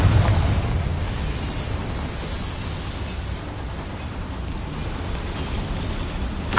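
A Confringo spell explosion goes off as a loud, deep burst, then settles into a sustained rumbling, crackling roar that fades slightly and holds steady, ending with a sharp pop.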